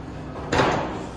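The metal gate of an elk chute is shut once with a single sharp, heavy clank and a short rattling decay, fairly close, with no voices.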